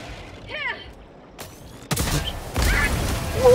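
A single Quasar Cannon shot in a shooter game: a brief crack followed by a loud blast and a sustained rumbling roar, with a muffled voice briefly heard beforehand.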